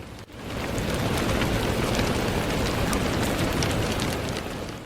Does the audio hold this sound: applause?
no